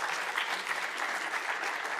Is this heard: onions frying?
no